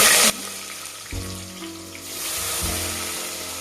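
Sliced onions fry in hot oil and ghee with whole biryani spices for a mushroom biryani, giving a steady close sizzling hiss that shifts as the pan is stirred.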